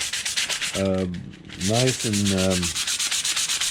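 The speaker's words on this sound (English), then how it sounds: "I hope I'm sanding here so people can see this." Abrasive sanding on a quenched horseshoe knife blade, a steady, close, continuous rubbing rasp throughout, with someone talking briefly over it midway.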